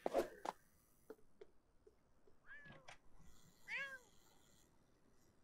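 Cat meows inside The Sims 4 life-simulation game, several short separate mews with rising and falling pitch spread across the clip, fairly faint and alone with no voices.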